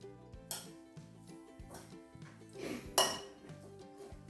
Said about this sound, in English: I'm going to give this one more stir real quick.